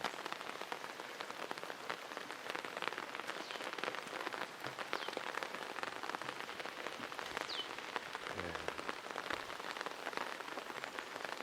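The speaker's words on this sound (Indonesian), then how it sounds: "Hujan raya, aduh." Heavy rain pours steadily over a village, a dense, continuous hiss of drops hitting surfaces close by, with no voices.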